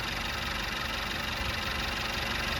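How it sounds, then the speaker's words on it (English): A 2016 Mercedes-Benz C300 with a 2.0 turbo direct-injection engine and about 72,000 miles idles with a rapid, steady ticking knock, heard close and continuous without talk. "You can hear that direct injection just knocking away."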